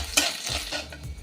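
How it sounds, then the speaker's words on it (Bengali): Crushed garlic cloves, five or six, dropped into hot ghee with dried red chilli, bay leaf and whole cumin give a brief, close crackling sizzle with a light stirring clatter. "এবার দেব 5-6 কোয়া রসুন, থেতো করে রেখেছি।"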